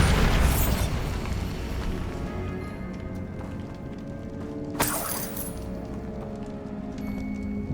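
Bombarda blasting spell cast in Hogwarts Legacy gameplay, a loud booming explosion with crumbling debris that decays over several seconds, then a second sharp crack and shattering burst midway through.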